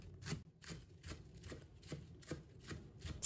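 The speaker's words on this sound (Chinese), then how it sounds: "葱叶切成葱花" A knife chops green onion leaves on a cutting board in quick, steady strokes, about eight light taps in a regular rhythm, close and quiet.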